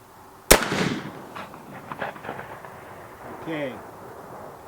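A single loud, sharp report from an 1874 Shiloh Sharps rifle chambered in .45-70, fired outdoors, with a short decaying tail followed by quiet background and faint voices afterward.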